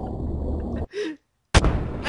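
Gunshot in Garry's Mod during a pirate battle, a sudden loud blast breaking through a brief silence after steady game noise and a short vocal sound, followed by a burst of clatter.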